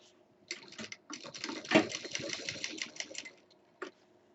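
Domestic sewing machine stitching a fabric mixer-grinder cover, a close, steady rattling run of needle strokes lasting a few seconds with a brief stop and one short final burst.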